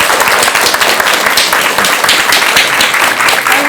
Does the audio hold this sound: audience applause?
yes